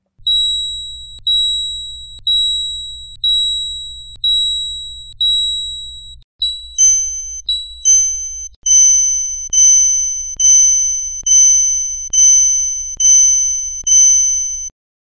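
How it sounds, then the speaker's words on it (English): A Citizen watch minute repeater rings clear electronic chime tones: six long tones in a slow series, then a couple of paired tones, then a quicker run of short tones. "To activate the minute repeater function, press and hold the upper right button until you hear the first tone"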